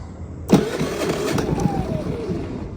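Gasoline power generator engine catching with a sharp start, then settling into a steady mid-pitched running drone, close and fairly loud, with a faint rising tone partway through.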